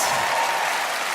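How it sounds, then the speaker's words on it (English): Brief burst of audience applause at a talk, steady dense clapping from a crowd at moderate volume with no voices over it. "So who booked their tickets online? By way of applause."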